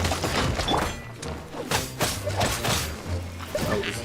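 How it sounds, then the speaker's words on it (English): Explosions and combat impacts in the video game Genshin Impact, with a dense run of loud thuds, crashes and whooshes under a low musical drone, the hits recurring every half second or so. "What the fuck just exploded?"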